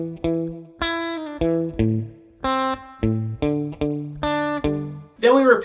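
An electric guitar picks a riff from a song, about a dozen distinct plucked notes in a steady rhythm, each ringing briefly with effects, ending on a bright strummed chord, close and clear.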